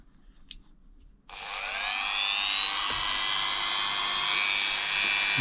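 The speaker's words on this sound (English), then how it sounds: "So I've got a Dremel with a little sandpaper roll on" A Dremel rotary tool fitted with a small sandpaper roll spins up sharply after a moment of quiet and holds a loud, steady high whine as it sands leather.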